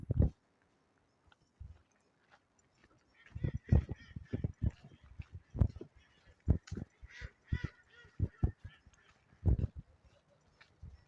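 Ducks and geese call at Lake Te Koo Utu in Cambridge, New Zealand, in scattered bursts of honks and quacks at moderate distance, irregular and separated by near-silent gaps.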